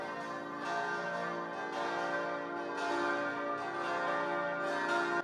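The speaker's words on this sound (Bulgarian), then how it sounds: "Камбаните на църквите в цялата страна напомнят за жертвите на COVID-19 и болката на близките им." Church bells peal across a country in memory of COVID-19 victims, a sustained, resonant ringing of several overlapping bells with steady strikes and long ringing tones, loud and continuous.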